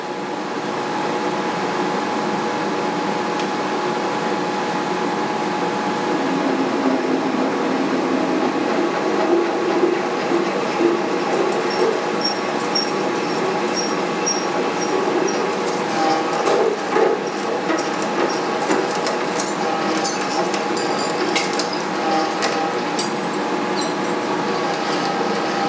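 A large drill bit turns slowly through a vise-held workpiece to bore a 1 inch hole, a steady droning machine hum with rising scraping and ratcheting chatter in the second half.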